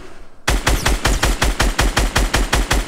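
Rapid automatic gunfire in a solo-squads video game bursts in after a short quiet moment, with about a dozen loud, evenly spaced shots in a fast, steady rhythm.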